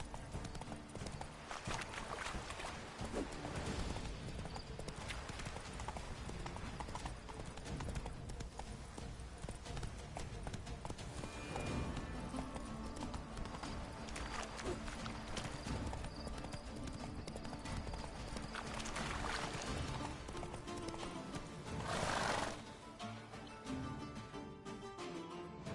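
Horse hooves clip-clop steadily at a gallop in The Witcher 3: Blood and Wine, a continuous close rhythmic pounding that lasts throughout with faint game ambience and no clear neigh.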